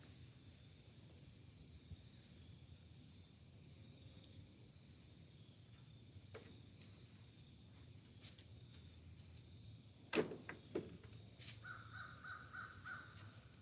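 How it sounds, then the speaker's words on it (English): Little birds calling outdoors in the countryside, faint and distant over a quiet background hum, with a few sharper, louder calls clustered near the end. "I live in the country, if you can hear all the little birds"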